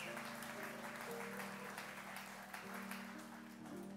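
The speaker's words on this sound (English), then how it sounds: "you can clap for that" Church audience applause, fairly faint and steady throughout, with a low sustained musical tone beneath the clapping.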